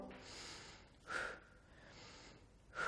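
Heavy breathing during a lower-body strengthening workout of lunges: slow, close breaths in and out, with two sharper, louder exhales through the mouth, and no talking.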